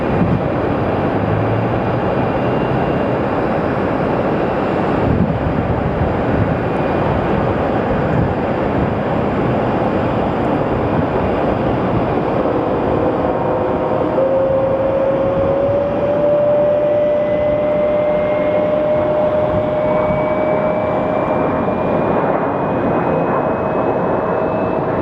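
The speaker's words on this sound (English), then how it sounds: "That is our next flight coming in." Airliner arriving at Phoenix Sky Harbor Airport, a continuous loud jet roar that holds steady throughout, with a rising engine whine emerging in the second half as the aircraft approaches.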